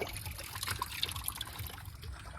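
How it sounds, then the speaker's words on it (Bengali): Water runs from a deep tubewell tap under pressure, a soft, steady trickling and splashing flow that stays faint and continuous throughout, with no talking. "এক পাশে বন্ধ করে দিলে এক পাশে প্রেশার বেশি এই যে জল বেরোচ্ছে"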